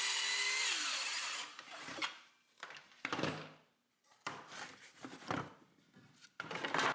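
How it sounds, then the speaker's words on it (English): A miter saw trims wooden table legs to length in a workshop: a loud, sustained whine of the blade biting through the wood, then a run-down followed by several shorter bursts of cutting and handling noise. "I trim off the legs to the correct length, 14¼ inches, with the miter saw."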